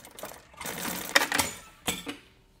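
Sewing machine stitching a seam on a fabric vanity case, a short quiet run of rapid mechanical clatter lasting under two seconds, with a few louder clicks near the end before it stops.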